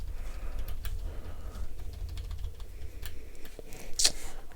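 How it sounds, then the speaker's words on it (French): Someone types on a mechanical keyboard in quick, uneven clicks at low volume, with one sharper, brighter click near the end over a low background rumble. "Un petit clavier mécanique."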